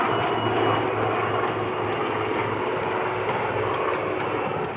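A Portuguese Navy Lynx helicopter at the Oeiras air show gives off a continuous, fairly loud engine and rotor drone with a steady tonal hum, heard alone without talk.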